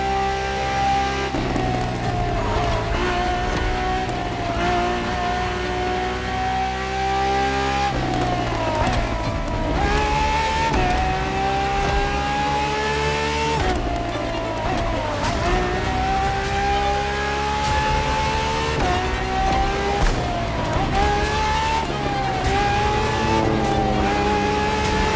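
Ferrari FXXK track supercar in the racing game The Crew Motorfest, its engine droning loud and steady with rising pitch sweeps through gear changes, brief tyre squeal between shifts, heard alone with no talk.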